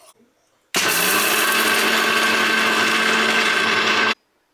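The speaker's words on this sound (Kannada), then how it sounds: "ಮಿಕ್ಸಿಗೆ ಹಾಕಿ ಆಮೇಲೆ ಕಡಲೆಕಾಯಿ ಬೀಜ, ಬೆಳ್ಳುಳ್ಳಿ, ಉಪ್ಪು ಹಾಕಿ ಪುಡಿ ಮಾಡಿ ಚಟ್ನಿ ರೆಡಿ" A kitchen mixer grinder whirs loud and steady for about three seconds, grinding roasted peanuts, garlic and salt into coarse chutney powder, starting and stopping abruptly.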